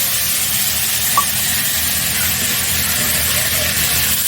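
Ground cumin and chili paste frying in oil for a Bengali fish curry with vegetables, giving a loud, continuous close-up sizzle that stays even from start to finish.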